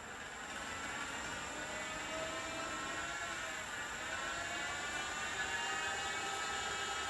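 Electric motor-generators MG1 and MG2 from a Lexus GS450H hybrid drivetrain, run on a bench with the input shaft locked, give a steady high whine with tonal layers over broadband hum, constant and close throughout.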